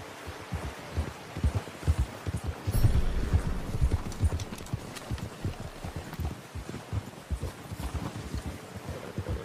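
Horse hooves clip-clop in a steady walking rhythm in Red Dead Redemption 2, close and distinct, over a soft wind-like rumble of outdoor ambience.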